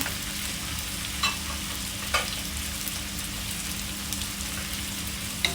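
Three sliced tomatoes fry in a pan with a steady, soft sizzle and hiss, a constant bubbling texture broken by a few faint clicks.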